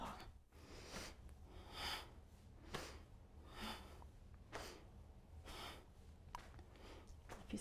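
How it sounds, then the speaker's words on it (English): Forceful bellows breathing during a yoga warm-up, a quick steady rhythm of sharp nasal inhales and exhales repeating about once a second, close to the microphone and moderately quiet. "Almost like a bellows, like a nice forceful inhale and forceful exhale."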